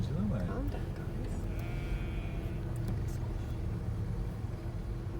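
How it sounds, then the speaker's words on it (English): Sheep bleat a few times in a field, close and short, over a continuous low vehicle rumble while people talk throughout. "it's just sheep at the front"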